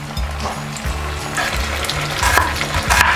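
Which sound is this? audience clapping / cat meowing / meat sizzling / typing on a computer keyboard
meat sizzling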